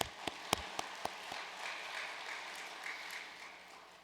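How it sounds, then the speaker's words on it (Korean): Applause offered in thanks at a Korean church service, starting with a few sharp, separate claps that blend into a soft, steady patter of hands from the congregation, fairly distant and quiet. "하늘 부모님께 감사의 박수 올리도록 하겠습니다"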